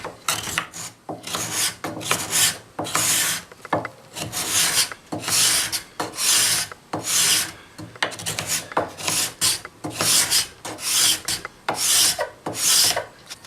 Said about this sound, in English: So, mostly using the card scraper.